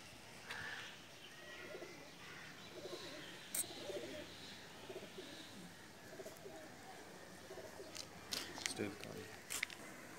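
Pakistani pigeons cooing in a breeding loft during courtship of a shy breeder hen, soft repeated coos under steady background chatter and bird noise, with people talking nearby throughout.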